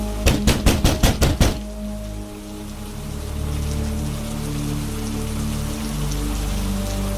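Rain falls steadily and close in a cartoon scene, a continuous hiss and patter on surfaces, opened by a quick run of about seven sharp knocks on a door.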